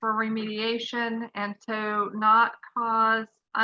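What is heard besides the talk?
None of the usual background noises is heard.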